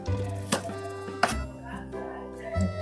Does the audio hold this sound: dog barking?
no